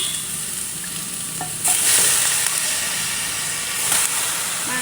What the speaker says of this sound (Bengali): এই যে মাংস রান্না করার জন্য এখানে পেঁয়াজ দিয়ে দিলাম এখন দিয়ে দেবো মাংসগুলো